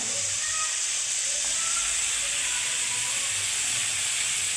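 Bombay duck (bombil) fish and brinjal fry in hot oil, giving a constant, dense hiss and sizzle that carries on evenly and fairly loud throughout, with no talking heard.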